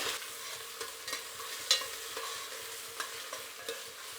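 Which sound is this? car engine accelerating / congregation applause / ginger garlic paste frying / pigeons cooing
ginger garlic paste frying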